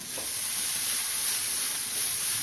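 Groundnut sundal with asafoetida powder frying in a pan gives a loud, steady sizzle and hiss, close up and continuous, with faint stirring underneath.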